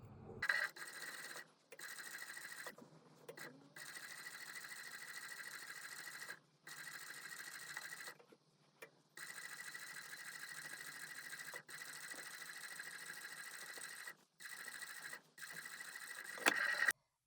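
A sewing machine stitches a trouser seam in long runs of fast, even whirring, stopping briefly several times between bursts, close and quiet.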